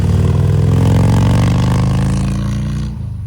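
Motorcycles ride past on a group bike ride in the USA, a loud close engine drone that holds steady, then fades away near the end.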